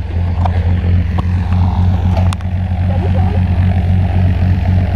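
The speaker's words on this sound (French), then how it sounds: "l'avion est là, on va aller le prendre." Propeller airplane engine running steadily and loud at close range, a constant droning hum while waiting to board for a tandem skydiving jump.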